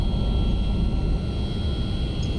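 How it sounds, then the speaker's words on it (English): Simulated MD-11 airliner rolling down the runway for takeoff in X-Plane 11, a steady loud broadband engine roar with low rumble held throughout, no voices. "start cruising down the runway here and get ready to take off"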